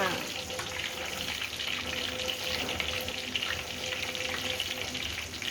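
Shrimp cakes fry in hot oil, a continuous close crackling sizzle with small bubbling pops throughout, while faint talk drifts in the background.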